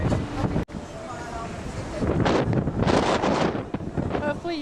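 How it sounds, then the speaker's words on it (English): Strong wind buffets the microphone on the open deck of a cruise ship in Alaska, roaring and gusting loudly throughout, with voices in the background. "It's very windy out here."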